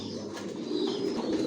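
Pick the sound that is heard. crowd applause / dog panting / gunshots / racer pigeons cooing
racer pigeons cooing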